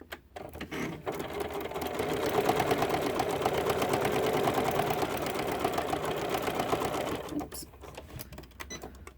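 A sewing machine stitching a quarter-inch seam on fabric pieces for an embroidered Christmas doorstop, a rapid steady mechanical clatter running for about six seconds after a short start, close and prominent.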